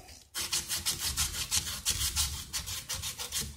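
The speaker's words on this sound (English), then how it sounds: "You take your sandpaper and let's brush the outside of that old pipe" Sandpaper rubs the outside of an old pipe in quick back-and-forth strokes, a close, rhythmic rasping repeated about a dozen times after a brief pause at the start, with no talk.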